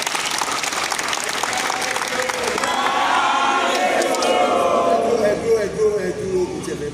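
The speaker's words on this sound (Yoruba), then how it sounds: "Ẹ pàtẹ́wọ́ fúnra yẹn." An audience at a formal gathering applauds in a dense, sustained wave of clapping that swells slightly toward the end, with faint crowd voices mixed underneath.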